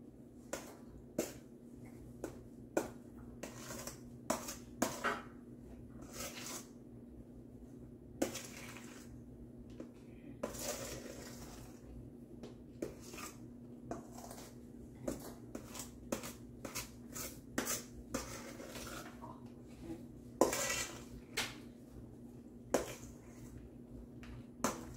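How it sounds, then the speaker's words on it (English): Whipped cream pie mixture stirred and folded in a bowl gives faint, irregular soft clicks and scrapes of a utensil against the bowl, quiet and close, with no talking. "A lot of stirring, primarily folding of the mixture."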